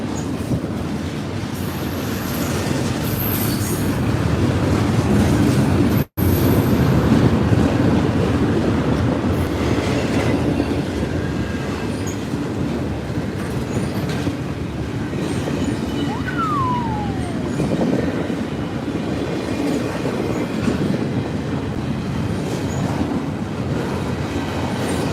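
CSX intermodal freight train rolling past at close range, a loud, continuous rumble and clatter of wheels and cars with a faint squeal partway through, sustained for the whole stretch.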